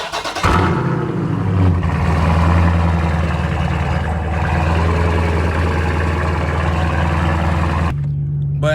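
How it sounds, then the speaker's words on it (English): A straight-piped Dodge Challenger Scat Pack fires up from cold with a sudden loud burst, then settles into a deep, booming, rumbling idle heard up close for several seconds before the sound cuts sharply. "I gotta give y'all a little cold start before I leave"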